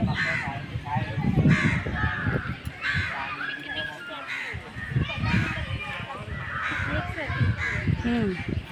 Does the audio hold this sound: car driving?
no